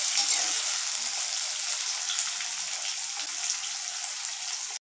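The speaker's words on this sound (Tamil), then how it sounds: "கத்திரிக்காய், முருங்கைக்காய் போட்டுருக்கேன். அது கொஞ்சம் வதக்கிட்டு" Brinjal and drumstick sautéing in a pan for a Tamil karamani kara kulambu, a steady bright sizzle and crackle of frying that stays constant throughout.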